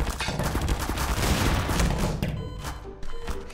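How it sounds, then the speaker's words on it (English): An automatic turret in Garry's Mod DarkRP fires a sustained, dense stream of gunshots, loud and continuous, easing slightly toward the end. "So you can actually make automatic turrets that shoot people."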